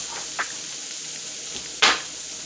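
Collard greens simmer in a skillet with a soft, steady sizzle, broken by a few brief, sharp clinks and scrapes of a utensil against the pan.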